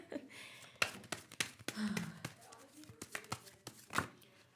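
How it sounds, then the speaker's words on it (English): Tarot cards are shuffled by hand in a series of short, sharp riffling bursts and soft slides, close and fairly quiet, with a faint sigh or breath between them. "let me get to shuffling"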